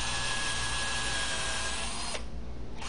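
A power drill whirs steadily at close range for about two seconds while drilling a hole in a CNC router frame corner, then cuts off abruptly, leaving a low hum.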